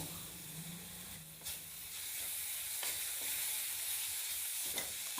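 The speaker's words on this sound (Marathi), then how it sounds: "मी हा टोमॅटो मसाल्यांमध्ये परतून घेतलेला आहे" Finely chopped tomato sautéing with spices in a pan for masoor dal, a steady soft hiss of frying with a few brief scraping stirs, quiet and close with no talk.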